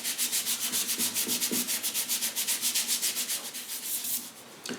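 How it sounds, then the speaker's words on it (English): Rhythmic hand sanding on wooden acoustic guitar sides, quick regular back-and-forth scrubbing strokes, close and steady, with no talking. "I want to go ahead and sand just a little bit where the blocks are going to meet the sides"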